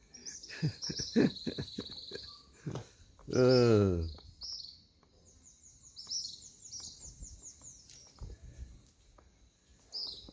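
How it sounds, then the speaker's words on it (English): Outdoors in Barbados, birds mobbing a monkey chirp and call in quick high twitters and tweets, moderately close, with a louder rising cry partway through and a person talking intermittently underneath. "The birds are attacking the monkey."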